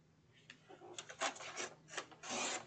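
Paper being trimmed down to 4 1/4 inches on a trimmer, heard as a few short rasping, sliding strokes in close succession, fairly faint and close, with no talking.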